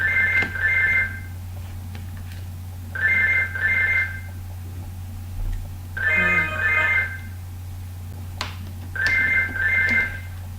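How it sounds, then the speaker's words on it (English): A house landline phone rings in repeated double trills, four ring cycles evenly spaced by pauses, loud and clear over a low steady hum. "So sorry about that, that's just the house phone."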